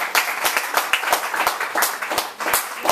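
Audience applause after a talk, a close, busy patter of many hands clapping at an even intensity, with a few louder individual claps punctuating the steady wash.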